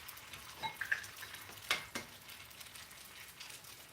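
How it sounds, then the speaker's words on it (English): Faint, steady sizzle of eggs frying in a pan, with a few soft utensil clicks and scrapes near the start. "All right, we're sizzling."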